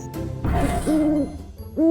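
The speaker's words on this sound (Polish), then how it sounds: "Wow! Moja sowa żyje!" A toy or animated owl in a children's dress-up play scene gives a few drawn-out hoots, loud and close, separated by short pauses.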